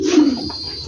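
A single king tiger pigeon gives one soft, close coo, a brief low rounded call that fades out quickly in an otherwise quiet moment.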